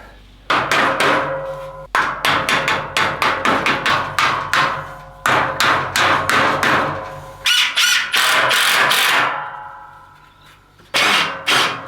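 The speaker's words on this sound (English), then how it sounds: "I'll just run a screw through there and a screw through there" Screws are driven into the frame rails of a Rack-It garage bench in several loud bursts of rapid mechanical hammering, each a second or more long and separated by short pauses.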